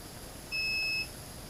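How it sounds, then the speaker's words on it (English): A pair of steady electronic tones beeping once, a short clear bleep of about half a second, nearby and moderately loud over a quiet hiss, with no talk. "that beeping is making me nervous"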